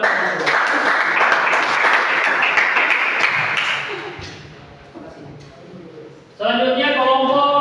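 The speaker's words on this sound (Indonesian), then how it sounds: "Mari kita berikan aplaus kepada Om." An audience claps for a presenter at a classroom group presentation, dense applause that fades out, then a voice begins speaking near the end.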